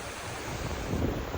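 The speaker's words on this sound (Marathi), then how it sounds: "हे बघा किती खतरनाक पाणी म्हणजे किती डेंजर पाणी चालू आहे डायरेक्ट" Fast, dangerous river water rushing at Bhandardara, a dense continuous roar with wind buffeting the microphone, swelling slightly louder toward the end.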